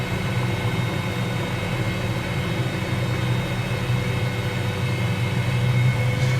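A CowanSim 500E helicopter in Microsoft Flight Simulator sets down hard at North Weald, its steady rotor and turbine drone droning loud and continuous at close range with no change in level.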